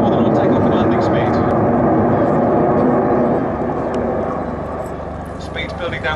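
A jet aircraft at the 2009 Cosford air show roars loudly and steadily, the engine noise easing slightly toward the end, with someone talking over it.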